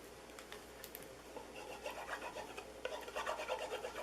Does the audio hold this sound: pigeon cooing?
no